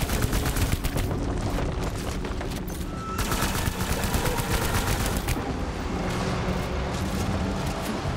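Dense, continuous gunfire fills a boss fight in Death Stranding at Capital Knot City, with rapid overlapping bursts and shots that stay loud and sustained throughout.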